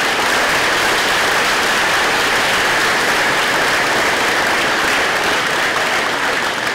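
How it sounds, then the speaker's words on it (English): Continuous, even applause from a large audience at a school awards ceremony, many hands clapping in a thick, unbroken wash from start to finish. "a big round of applause for all of the students that got the achievement medal this year"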